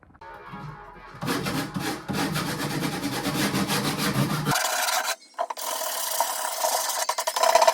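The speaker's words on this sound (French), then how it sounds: "je vais venir dépoussiérer et poncer le meuble pour pouvoir passer à la peinture" Rasping, scraping friction of sanding an old wooden piece of furniture before painting, a dense continuous rubbing that stops briefly near the end then resumes, close and fairly loud with no talk.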